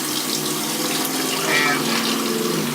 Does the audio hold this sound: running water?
yes